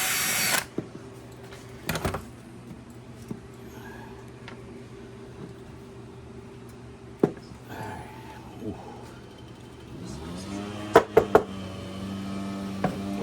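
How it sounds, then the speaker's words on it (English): A power drill backs screws out of a 32-year-old Snapper motor, model 21405P, with intermittent whirring runs and clicks, then a rising whine and a few sharp knocks near the end. "I'm taking the screws off to break this down so I can clean each section."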